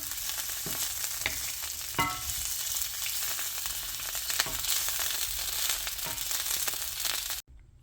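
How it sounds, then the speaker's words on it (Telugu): Boiled potatoes shallow fry in a little oil in a pan for dum aloo, a close, dense, steady sizzle with occasional scrapes and stirs, ending abruptly, and no voices. "నెక్స్ట్ ప్యాన్లో లిటిల్ బిట్ ఆయిల్ తీసుకొని ఆలూస్ని వేసుకున్నా అండి. షాలో ఫ్రై చేసుకుంటున్నా."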